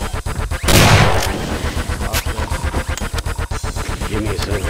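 A rocket launcher fires in Doom 2, a loud blast followed by a dense stream of explosive weapon fire and impacts, close and continuous with no voices.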